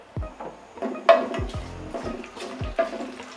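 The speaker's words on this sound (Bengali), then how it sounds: "কিছুক্ষণ নেড়ে চেড়ে নিতে হবে।" Onions and whole spices (bay leaf, cardamom, cinnamon) frying in a pan while being stirred with a utensil, with repeated scraping strokes and clinks over a steady close sizzle.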